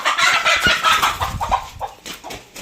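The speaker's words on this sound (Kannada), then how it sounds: "ನಮ್ಮ ಕೋಳಿ ಒಂದು ಮೊಟ್ಟೆಗೆ ಬಂದೈತೆ. ಇವಾಗ ಅದು ಮೊಟ್ಟೆ ಇಕ್ತೈತೆ." A free-range village hen clucks busily and repeatedly after laying an egg, a loud, close run of cackling calls with no talk over it.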